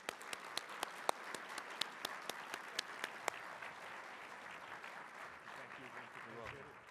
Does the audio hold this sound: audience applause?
yes